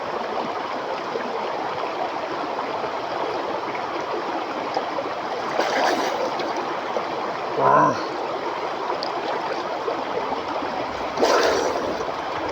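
A flowing river stream at Riba River, Ilocos Sur, with clear, cold water. A steady, even rush of water runs throughout, broken by a few brief voice exclamations.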